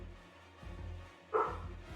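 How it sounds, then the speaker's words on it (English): A single dog bark from the kitchen, fairly faint and from another room, over a low steady electrical hum. "You might be able to hear the Dooge barking in the kitchen"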